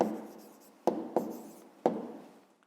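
A pen writing on paper by hand, with a few soft sharp taps and scratchy strokes close up in a quiet room.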